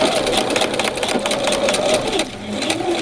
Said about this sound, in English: I'm going to stitch right along this line at the 1/4 inch mark